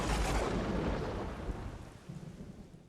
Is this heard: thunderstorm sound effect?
yes